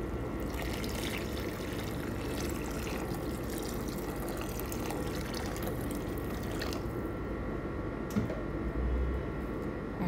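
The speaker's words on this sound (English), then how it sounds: "We will add water on it." Water is poured into a pan while making Persian chicken, a soft, continuous trickling and splashing over a steady background hum, fairly quiet, with a couple of small knocks near the end.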